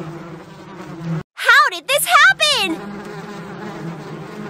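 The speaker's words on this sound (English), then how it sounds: "I have to lure the bees away first." Cartoon bees buzz around a car covered in bees, several short, bright, warbling buzz bursts close up, with a cartoon voice speaking over a droning background.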